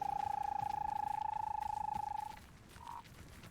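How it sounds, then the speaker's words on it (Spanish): A toad in the video game Hogwarts Legacy gives one long, steady, buzzing trill lasting a couple of seconds, then a brief softer call, close and clear over quiet ambience. "Es un sapo normal."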